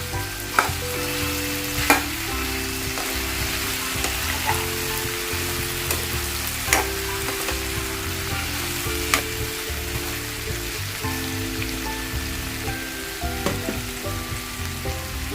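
Pumpkin sabji simmers and sizzles in a pan while a spatula stirs it, giving a loud continuous hiss broken by sharp scrapes and knocks against the metal every couple of seconds.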